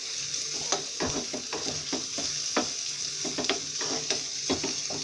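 Chopped onion sautéing in a pan, with a steady close hiss of frying under frequent scraping and stirring clicks from a spatula.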